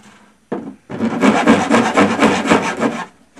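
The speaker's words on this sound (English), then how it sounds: "I'm going to use my trusty old bastard file" An old bastard file rasping notches into the rim of a pail, a short scrape, a pause, then a longer run of quick back-and-forth strokes, close and loud.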